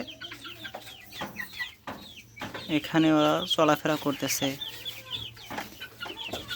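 Fifty-three-day-old farm chickens cluck and call repeatedly around a poultry shed, close and lively, while someone talks over them.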